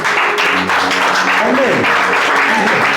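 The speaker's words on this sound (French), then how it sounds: "Est-ce que tu peux acclamer ça?" A church congregation applauding during a service, a steady, dense wash of clapping with voices and cheers mixed in throughout.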